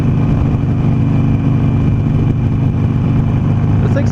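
A Harley-Davidson Sportster Roadster motorcycle being ridden, its engine a loud, steady low throb with wind rush over the whole stretch.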